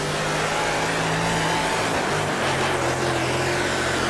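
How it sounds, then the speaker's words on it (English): A sprint car's engine in the World of Outlaws video game roars at Grant Park Speedway, held at a loud, steady drone with slight pitch shifts as the throttle is feathered through the corners. "You can hear I'm feathering the car through the corners."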